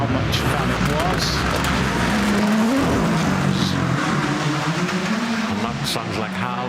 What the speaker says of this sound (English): Sounds like Hal is giving it plenty of gears into the left-hander and down under the trees at Laker and Hopkirk.